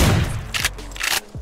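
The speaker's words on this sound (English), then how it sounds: "I hear gunshots." Two sharp gunshot bursts in the survival video game DayZ ring out loud and close, roughly half a second apart, each with a brief echoing tail, over low rumbling background noise.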